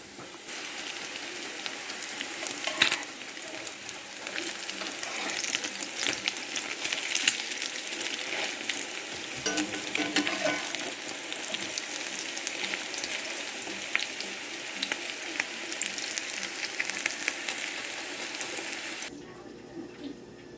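Salmon patties fry in lard in a skillet for a Southern supper, giving off a steady, dense crackle and sizzle that runs continuously at close range with small pops throughout, then cuts off sharply just before the end.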